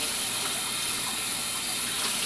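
Water running through a strainer to rinse tomato seeds, a steady close hiss of flowing water with no voices.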